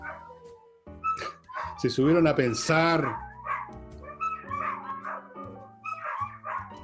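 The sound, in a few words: dogs barking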